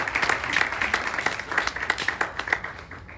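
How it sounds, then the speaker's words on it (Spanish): An audience in a talk about artificial intelligence claps together in a short burst of applause, the many overlapping hand claps forming a dense, fairly loud patter with no voices over it. "vamos a darnos un aplauso a nosotros y a nosotras"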